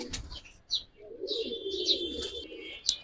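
Large pigeons, Giribaz and coloured breeds, make a soft murmur of low coos with a few brief higher chirps over a steady background, fairly close and moderately quiet.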